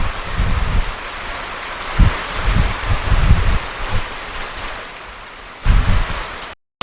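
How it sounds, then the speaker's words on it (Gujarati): Heavy monsoon rain pours steadily on a farmhouse roof and ground, with water running off the eaves, loud and continuous with a few stronger gusty surges, and no voices. "મસ્ત વરસે છે."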